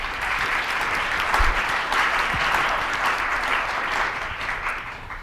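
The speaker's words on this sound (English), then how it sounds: "We have to clap." Steady audience applause at a conference on women leading social change, a dense even wash of many hands clapping throughout with no talk.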